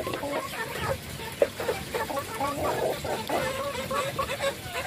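Backyard chickens, kept in two pen sections and fed black soldier fly larvae, cluck repeatedly in short, irregular bursts at moderate distance over a steady low background hum.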